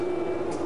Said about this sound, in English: Down we go into the metro